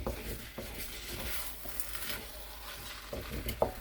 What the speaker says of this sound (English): Make sure you mix in that butter, that fresh garlic.